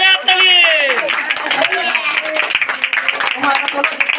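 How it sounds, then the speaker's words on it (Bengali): Rapid clapping at a family birthday party, close and fairly loud, mixed with excited voices and chatter throughout. "জোরে হাততালি"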